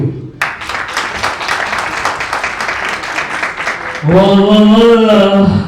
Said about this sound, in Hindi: So can we have a round of applause, big round of applause?